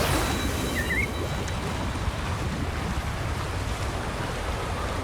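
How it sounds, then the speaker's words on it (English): Rushing waterfall in the video game Wuthering Waves, a constant broad roar of falling water that holds steady and fairly loud from start to finish with no talking. "That's a really big waterfall."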